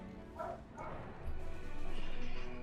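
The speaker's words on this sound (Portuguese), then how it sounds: "O cachorro tá latindo na sala." A dog barks in a living room, a few faint, muffled barks and yips in the background amid low room noise.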